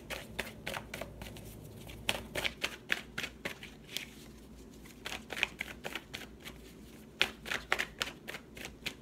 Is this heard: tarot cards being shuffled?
yes